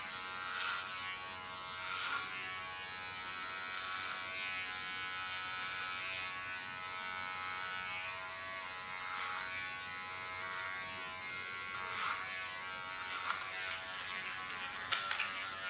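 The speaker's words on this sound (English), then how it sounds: "the sound of this clipper" Electric hair clipper buzzing steadily as it cuts a very short feminine haircut, up close and fairly quiet, with brief louder bursts as the blade passes over the head and no talking.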